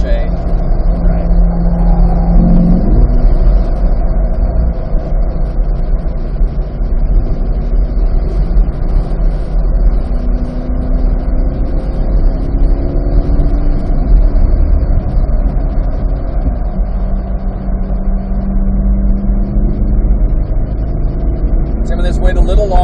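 A 2022 Chevrolet Corvette C8 Z51 circulates a race track at Motorsport Ranch, its engine a steady low drone with pitch rising and falling through gear changes, heard from inside the car under continuous talk.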